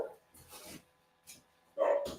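A pet dog barks at home in a few short bursts, moderately close, with one louder bark near the end and quiet gaps in between.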